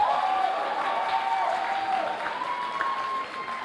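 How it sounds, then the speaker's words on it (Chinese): A roomful of people at a political party's founding meeting in Taiwan claps in a sustained burst of applause that slowly fades, with a faint tonal sound running underneath. "好了，掌声通过。"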